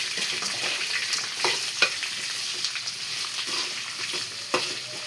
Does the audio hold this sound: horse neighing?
no